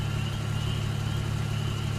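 A car engine idles steadily as a sound effect in an Indonesian horror radio drama set on a dark night near a forest. The low hum stays constant and alone for a couple of seconds.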